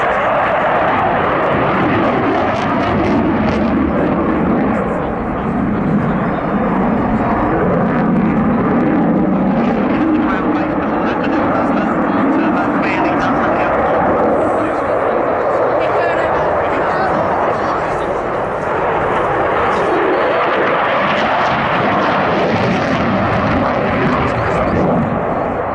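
A Eurofighter Typhoon jet displaying at the 2024 Cosford Airshow: a loud, continuous engine roar that swells and eases for the whole stretch, with voices underneath.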